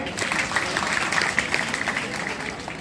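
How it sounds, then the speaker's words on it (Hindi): A crowd claps steadily for a few seconds at a Republic Day speech, dense and lively, with a voice faintly underneath. "एक बार जोरदार तालियां बजाई जाए।"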